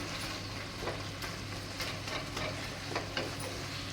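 Gongura leaves and tomato sautéing in oil for a tangy thokku, a soft steady sizzle under intermittent stirring scrapes and clicks, fairly quiet, nobody speaking.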